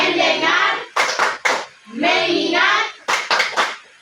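Chanted children's voices alternate with rhythmic group hand claps in a classroom focus routine, two rounds of chant each followed by a cluster of three sharp, loud claps.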